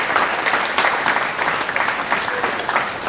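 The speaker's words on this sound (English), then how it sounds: "So how about a round of applause for your teachers," Room full of people at a mayor's breakfast for a senior class clapping for teachers and staff, loud, dense and continuous applause with uneven, lively rhythm.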